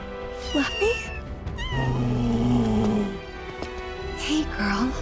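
A cat meows repeatedly in Final Fantasy VII Rebirth. The mewing is clear and high, with several drawn-out calls, and it sits over a low game music bed.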